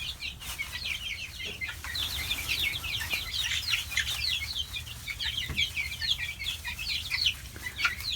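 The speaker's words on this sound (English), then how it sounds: "So the plan is to leave these chicks locked up in here for at least 2 weeks." Dozens of chicks in a brooder keep up a dense, continuous high peeping chorus, close and loud, with occasional soft wing flutters and shuffling beneath.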